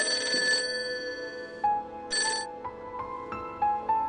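An old-style telephone bell rings loudly in two bursts, then chimes fade into a quieter, intermittent ringing tone, close and with no voices.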